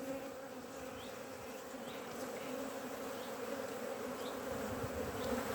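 Honey bees buzz around the beehives in a continuous, even drone, fairly faint, with occasional individual bees passing closer and no voices.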